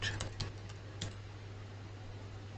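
Typing on a computer keyboard, a handful of sharp clicks clustered at the start, then sparse taps over a steady electrical hum.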